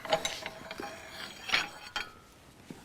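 A ratchet strap on a tubing bender being worked, giving a few sharp metallic clicks and ratcheting snaps with pauses between, close and fairly loud, with no talking.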